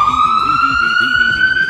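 A voice imitates an ambulance siren, holding a steady, slowly rising wail that runs continuously and loud for the whole moment, with rhythmic warbling undertones beneath it.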